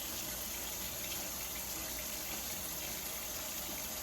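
A finished cross stitch piece is swished gently back and forth in sink water, giving a steady, even watery rush throughout.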